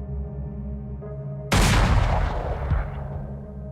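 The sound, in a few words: rifle shot fired inside a bedroom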